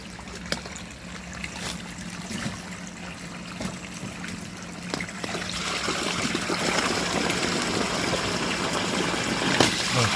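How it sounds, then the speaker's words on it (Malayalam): Fish pond water mixed with motor-pumped water runs in a steady trickling flow toward a bitter gourd vegetable farm, a soft continuous stream that grows somewhat fuller and louder partway through, with a low hum underneath. "ഈ മോട്ടറടിക്കുന്ന വെള്ളം കൂടിയിട്ടാണ് പച്ചക്കറി തോട്ടത്തിലേക്ക് വിടാൻ പോകുന്നത്, പാവലത്തോട്ടത്തിലേക്ക്"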